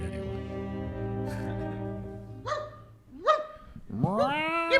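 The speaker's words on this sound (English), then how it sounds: "I heard the butcher's chihuahua barking up a storm" A chihuahua barks in short sharp yips over a sustained droning music bed, three or four high barks rising near the end, fairly close and clear.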